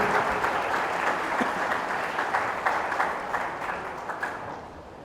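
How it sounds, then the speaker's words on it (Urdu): A church congregation at St. Clare Parish applauds during a Holy Trinity Sunday Mass, a dense, steady wash of many hands clapping that fills the space evenly and fades slightly toward the end. "تو ہم بھرپور تالیوں میں ایک دوسرے کو مبارکباد پیش کرتے ہیں۔"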